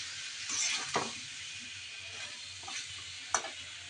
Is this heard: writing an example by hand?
no